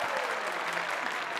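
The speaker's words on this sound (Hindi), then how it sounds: "तालियां हैं, तालियां हैं।" Crowd applause fills a London casino as gamblers clap steadily and continuously at moderate volume, a dense wash of hands with no pauses throughout.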